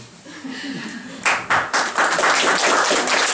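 Audience applause at an 80th birthday jubilee celebration, beginning after a moment of speech and swelling into steady clapping from many hands in a hall.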